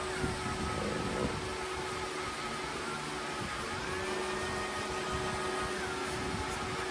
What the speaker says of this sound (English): Let's do a little bit of an abrasive wheel. We'll get this little bit of slag off